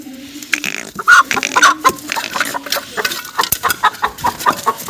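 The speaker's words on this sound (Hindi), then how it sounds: "एक मुर्गा एक मुर्गी है" Chickens cluck and burble close by in short, irregular bursts, a rooster and hen chattering over faint background noise.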